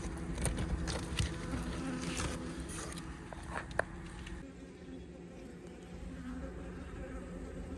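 Honey bees buzz in a dense, continuous swarm during the relocation of a five-year-old colony, a close, steady hum with scattered louder passes of individual bees and a few small knocks.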